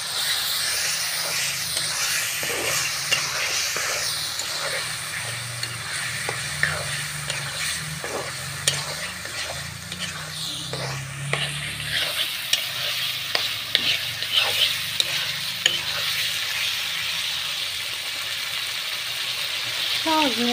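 Meat for haleem frying in a pot while being stirred, a steady close sizzle with repeated scraping strokes throughout, low hum and faint voices in the background.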